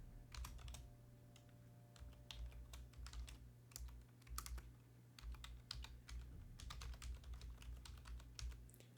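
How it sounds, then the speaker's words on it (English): Typing on a computer keyboard during a tabletop role-playing game session: rapid, irregular clusters of sharp key clicks close to the microphone, with brief pauses, over a constant low electrical hum. "I'm typing, so feel free to plan out your things as I am typing."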